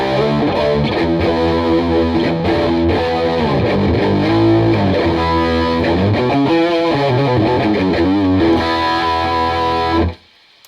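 Distorted electric guitar played through an AmpliTube amp simulation modelled on a 1980s rig, a thick, sustained riff with chords and lead lines ringing steadily, then cutting off abruptly near the end.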